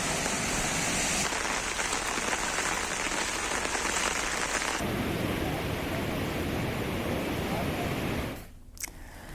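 Heavy, steady rain pours down over a town crossroads in Chamoli during continuous monsoon downpours, a dense loud hiss filling the scene, shifting in tone midway and dropping briefly near the end.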